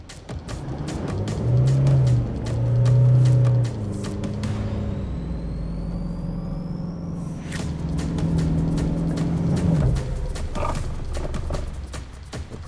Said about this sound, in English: it's certainly easier to get the car moving backwards and forwards at the moment